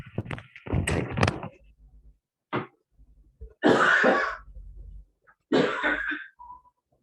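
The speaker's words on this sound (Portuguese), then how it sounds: "eu tô com crise de tosse" A person in a coughing fit lets out several harsh, close coughs and throat clearings in separate bursts, with brief pauses and some handling thumps between them.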